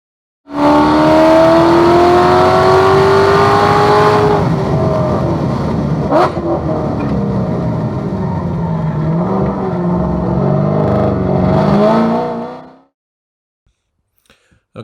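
Race car accelerating hard down the back straight at the M1 Concourse circuit, a loud, sustained engine roar climbing through gears with rising pitch, continuous for about twelve seconds before cutting off.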